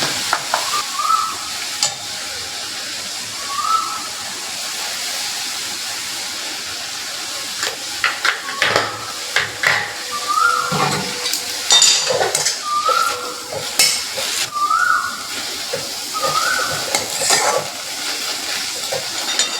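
Malabar spinach leaves sizzle steadily in a pan over medium heat, with a spatula repeatedly scraping and stirring and a few soft metallic clinks; no one speaks.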